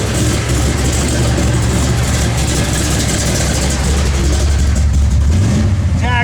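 A 1967 Chevrolet Chevelle engine revs hard and climbs through the gears, a loud, close, rumbling roar with a steady low drone and a rising pitch sweep near the end.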